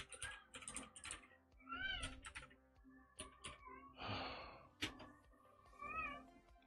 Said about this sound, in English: That's one of the cats.